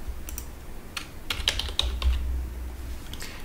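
Keys clatter on a computer keyboard as notes are typed into Salesforce, with scattered, quick, close keystrokes in short bursts over a quiet room and no speech.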